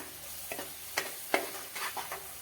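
Kashmiri red chilli powder and other spices are stirred in a frying pan, a few short scraping strokes over a soft, low sizzle, quiet and close.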